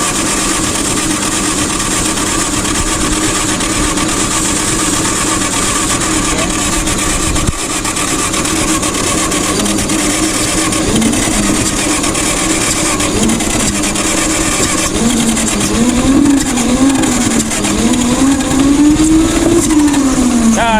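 A vintage forklift engine, started after sitting unused for years, runs steadily and loudly throughout, its pitch rising and wavering toward the end as the throttle is worked.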